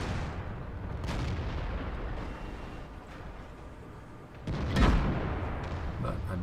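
A tank gun shot in World of Tanks ricochets off an E5's armor with a loud booming clang near the end, following an earlier fainter report over steady engine and battle rumble.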